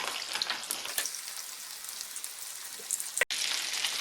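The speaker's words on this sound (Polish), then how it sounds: "Będę smażyć aż jedna strona kotleta będzie równiana." Pork cutlets fry in a little oil in a pan, giving a steady, soft crackling sizzle with scattered pops throughout, followed by one brief clatter near the end.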